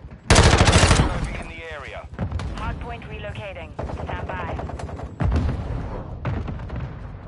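Gunfire in the video game Call of Duty Modern Warfare 2: a loud burst of rapid automatic shots, then further irregular volleys, mixed with voices and game chatter.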